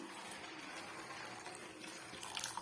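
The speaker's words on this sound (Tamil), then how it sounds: "நல்லா ஹாட் வாட்டரை சேர்த்து விட்டுக்கிறேன்" Hot water pours steadily into a bowl of sago for making vadam, a continuous splashing trickle that stays close and even throughout with no talking.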